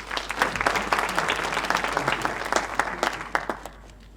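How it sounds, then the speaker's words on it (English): Seminar audience at an investment properties event in Midrand gives a round of applause, steady dense clapping that thins into a few scattered claps near the end. "Give her, Yolandi, for me, a hand of applause."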